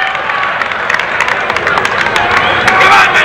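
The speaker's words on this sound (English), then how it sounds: "getting a standing ovation from many members of this standing room only crowd" A packed standing-room crowd at a Golden Gloves boxing championship in the Minneapolis Armory cheers and applauds in a steady, dense wash of clapping and voices, with sharper claps popping through and a brief surge near the end.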